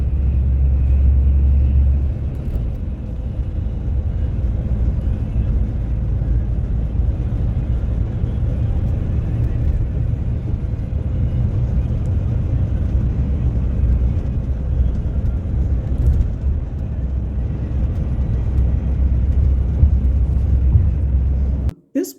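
Steady low engine rumble and road noise inside a moving bus on a coastal route in the Dominican Republic, continuous and fairly loud throughout with no talking.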